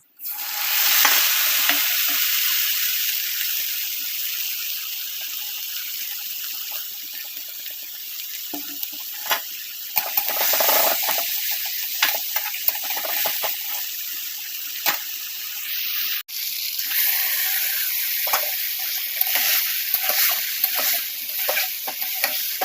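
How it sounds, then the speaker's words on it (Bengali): Lote fish (Bombay duck) fries with a ginger, garlic, cumin and chili masala, producing a continuous close hissing sizzle with scattered stirring scrapes and pops. "ভাজা বসিয়ে দিয়েছি আর এখানে মশলা করে নিলাম আদা রসুন আর জিরে লঙ্কা যা যা দেয় আর কি"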